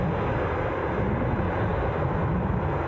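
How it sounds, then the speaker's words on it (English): An EasyJet Airbus A320 on approach to Edinburgh Airport, a steady, broad roar of jet engines holding constant and fairly loud throughout, with no voices. "we have a fast approaching EasyJet A320"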